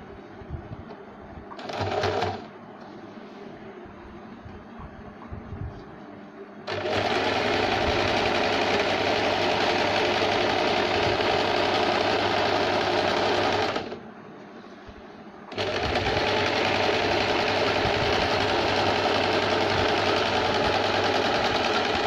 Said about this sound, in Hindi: यहाँ से हम फिटिंग की इस तरह से सिलाई लेते हुए पूरे घेर तक लगाएंगे।